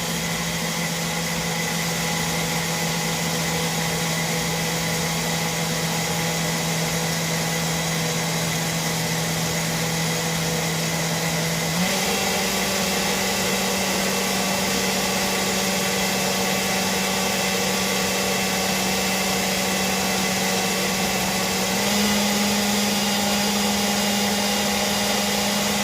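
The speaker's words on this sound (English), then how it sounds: "you heard the blender kind of like kick up 2 more gears." A loud blender whirs continuously while pureeing cashew milk, its motor pitch stepping up twice as it speeds through higher settings.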